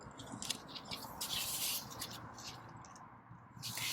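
Flower head being cut from a plant stem on a garden plot, heard as soft, close scratching, rubbing and snipping sounds, quiet and intermittent with no talking.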